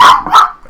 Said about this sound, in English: So get ready for some barking.